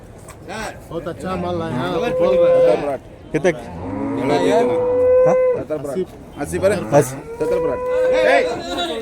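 Native cattle moo repeatedly at a large cattle market in Vaniyambadi, long drawn-out calls rising over a busy crowd, with people talking throughout and several animals calling near and slightly farther off.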